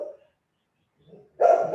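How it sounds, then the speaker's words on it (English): A dog barks nearby, a short muffled woof followed by a louder, clear bark at the end, with a brief quiet stretch between them. "Sorry about the dog, guys. I don't know if you're hearing him."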